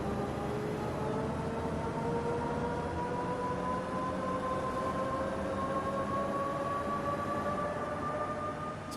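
In the bus simulator OMSI 2, set in Berlin, a train rumbles steadily past, its whine slowly rising in pitch over a constant dense roar, with no voices.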